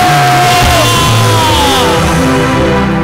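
Church congregation shouting victory together, a loud massed roar of voices with a sustained shout, dense and close.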